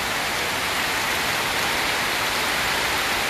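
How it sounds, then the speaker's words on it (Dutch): Steady rain pours down on a rainy day in Suriname, a dense, even hiss of drops on surfaces that fills the whole stretch without a break and with no voices over it. "Het regent, het regent. Iedereen wordt nat."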